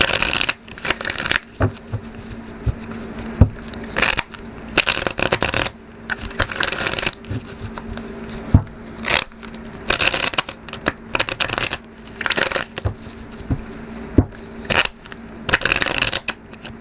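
Tarot cards are shuffled in repeated riffling and rustling bursts, close up, with short pauses between rounds.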